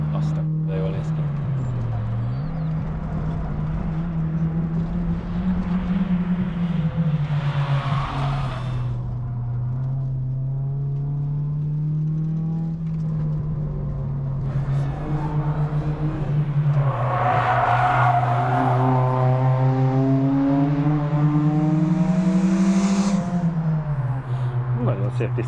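A Mitsubishi, an Eclipse or a Lancer Evo 9, runs racing laps on a track, its engine droning steadily and rising and falling in pitch through the shifts. People talk over it throughout.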